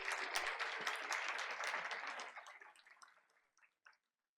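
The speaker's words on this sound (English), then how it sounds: "Audience, let's give it up for the Dominguez crowd." Audience applause at a school board of education meeting, a steady wash of many hands clapping that fades out over the last seconds, ending in a few scattered claps.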